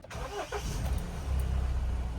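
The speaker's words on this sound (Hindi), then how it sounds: "अब इंजन को स्टार्ट करते हैं।" A Mahindra Thar BS6, its urea warning light on, cranks and fires up, then settles into a steady low engine rumble close by.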